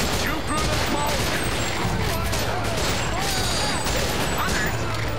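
Rapid gunfire from the Time Crisis 5 arcade shooter rattles on continuously at close range, dense and loud with overlapping shots and crashes, mixed with game sound effects.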